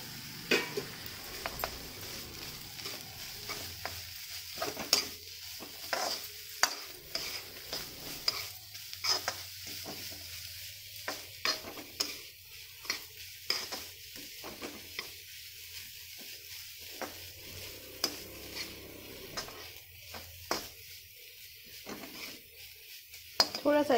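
Vegetables with shredded cabbage being stirred in a pan for homemade vegetable soup: steady scraping and clinking of a utensil against the pan with a faint sizzle underneath, continuing without speech.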